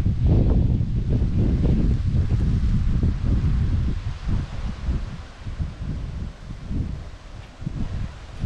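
Strong wind gusts sweeping across an exposed hillside campsite in Herzegowina, a loud continuous roar and rustle with heavy buffeting on the microphone that eases slightly toward the end.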